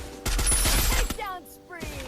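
Gunfire in the Free Fire battle royale game: a rapid, loud burst of shots followed by a few sweeping electronic tones and a last short report.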